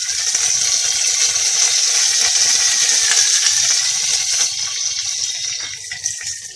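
Curry leaves sizzling in hot oil in a pan while making khaman dhokla, a loud continuous crackling hiss with faint stirring taps underneath, no talking.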